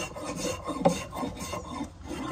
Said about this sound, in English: I'm just taking off very fine shavings.